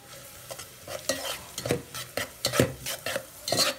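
Onion frying in a pan for aloo samosa filling, with a spoon stirring and scraping through it: soft sizzling underneath repeated close clinks and scrapes at an irregular rhythm, about a dozen strokes.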